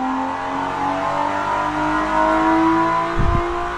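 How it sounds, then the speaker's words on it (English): A strong naturally aspirated inline-six engine in the Automation car-building game revs steadily with a rising, droning tone, loud and close, ending with a brief low rumble. "Quite an interesting sounding engine."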